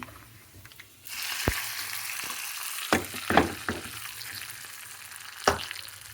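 Hot tempering poured into a pot of dal erupts into a sudden loud sizzle that hisses on steadily, broken by a few sharp clinks and scrapes of a utensil, with no talking.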